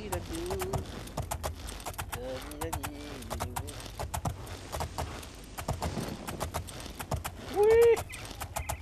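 Horse hooves clip-clop in the video game Oblivion, a run of sharp, fairly loud hoofbeats near the listener, with someone speaking French over them and horse-like calls.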